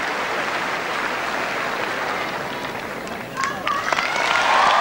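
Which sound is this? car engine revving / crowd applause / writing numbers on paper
crowd applause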